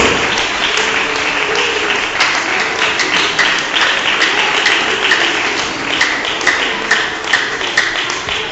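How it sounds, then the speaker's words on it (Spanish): A church congregation claps during a Spanish-language Sunday morning sermon, a sustained loud ripple of many hands with scattered sharper claps and faint voices mixed in. "Un aplauso para Él en esta mañana"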